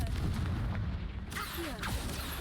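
Confringo fire spell explosions in Hogwarts Legacy, loud booming blasts over a dense game soundscape with a sharp burst partway through.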